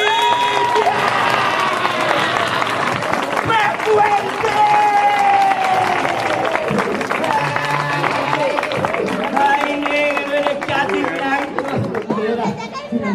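A crowd at a live magic show in Alcorcón applauds loudly and steadily. Shouts, chatter and children's voices mix into the clapping throughout.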